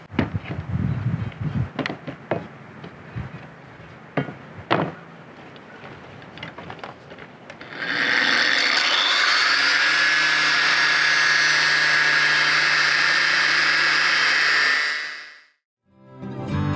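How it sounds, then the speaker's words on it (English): After some scattered clanks and knocks, a power tool grinds loudly through steel at an angle with a harsh, high whine for several seconds, then winds down. "cut my steel on a bit of an angle there to fit the profile of the barrel top"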